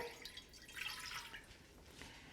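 Water trickles and splashes into a saucepan while a simple syrup is made, a light pouring flow that swells briefly in the middle, fairly quiet and without speech.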